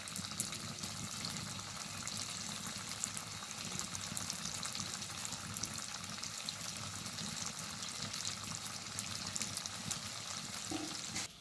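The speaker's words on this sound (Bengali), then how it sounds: "এবার তেলের ওপর পকোড়াগুলো ছেড়ে দেবো হালকা আছে এটাকে ভেজে নেবো" Raw potato pakoras frying in white oil make a constant, dense crackling sizzle that is close and even from start to finish, with no voices over it.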